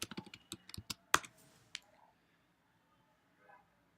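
Close, quiet clicks of a computer keyboard as a short terminal command is typed: a quick run of keystrokes, one sharper tap, then silence.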